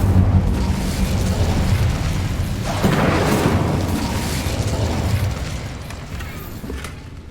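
Incendio fire spell cast in Hogwarts Legacy: a loud roaring whoosh and booming burst of flame that swells, then slowly fades near the end.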